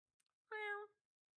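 A person's voice imitates a cat, giving one drawn-out meow after a few faint clicks, alone and fairly close.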